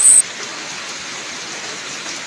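Steady rain pours down continuously, a dense even hiss close by with no other sounds standing out.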